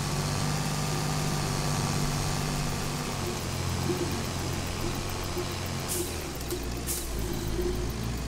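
A New Holland 3630 tractor engine runs steadily in Farming Simulator 22, a continuous low idling rumble with a faint higher whine, holding a constant loudness from start to finish with no speech over it.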